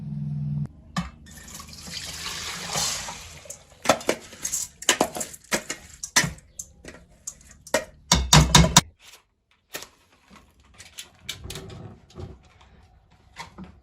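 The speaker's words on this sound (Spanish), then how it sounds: "Ahora voy a escurrir el arroz." Cooked white rice drained in a home kitchen, with a brief rush of water at the start followed by irregular clatter and knocks of a pot and utensils, close and fairly loud.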